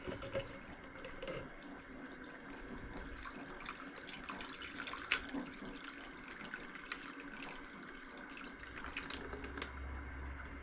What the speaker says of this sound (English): I'm going to go ahead and add water.